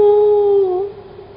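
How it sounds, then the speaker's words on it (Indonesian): A single dog's howl, a sustained tone that holds steady and then slowly fades out over about a second, with no voices over it. "Makanya suara lolongan anjing itu terdengar ketika daratan mereka diangkat oleh langit."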